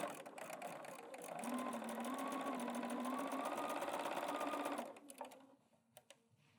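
A sewing machine stitches quilt pieces with a quarter-inch seam, its rapid steady whirring hum running for about five seconds, close and fairly loud, then stopping with a few light clicks afterward.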